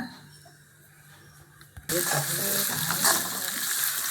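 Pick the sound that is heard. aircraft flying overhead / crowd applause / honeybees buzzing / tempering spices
tempering spices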